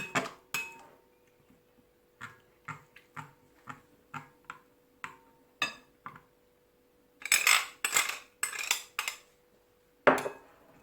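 Utensil clinking and tapping against a bowl in quick rhythmic bursts while beer mixture is mixed into a Welsh rarebit cheese tart filling, with short pauses and a denser flurry of scraping strokes near the end.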